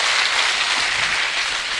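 An audience at a motivational training seminar claps hands together, a dense, loud, even wash of clapping with no pauses over a brief stretch.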